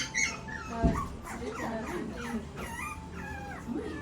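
A puppy whimpers in a cage at a pet cafe in Tokyo, letting out a series of faint, high, wavering whines and yips spread across a few seconds.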